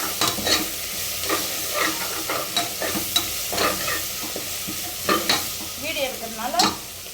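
Onions sauté in a frying pan on a home stove, a soft steady sizzle broken by repeated scraping strokes of a spoon stirring through them, close and moderately quiet, with no voices.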